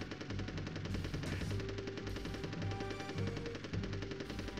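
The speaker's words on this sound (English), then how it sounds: "hear the constant gunfire. Apologize for that. It's the way choppers work in the game." Constant machine-gun fire from helicopters in the Army Men: Sarge's Heroes video game, rapid unbroken bursts of fast rhythmic shots over a dense game soundtrack, with short pauses between volleys.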